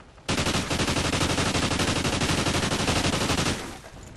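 A submachine gun in Call of Duty: Ghosts fires one continuous rapid-fire burst for about three seconds while aiming down sights, loud and close, with evenly spaced rattling shots that stop abruptly and ring out briefly.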